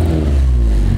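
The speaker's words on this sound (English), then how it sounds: "Turn it on. Give it some revs." A Honda Civic hatchback with a Yonaka exhaust revs in a short, loud, deep burst, heard close up and with no talking.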